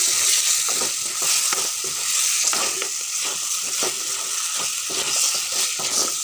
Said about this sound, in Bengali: এখন একটু নেড়ে চেড়ে মিক্স করে নিচ্ছি।